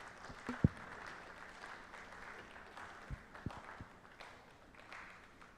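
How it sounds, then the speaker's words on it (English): Conference audience applauding after a presentation, a soft, diffuse patter of clapping at a distance with a few sharper claps standing out. "A better round of applause for him."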